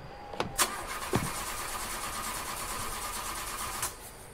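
A car engine cranks and starts in the video game The Lights Went Out 616, with a few sharp clicks and thumps at the start, then a steady mid-pitched idle hum that carries on alone.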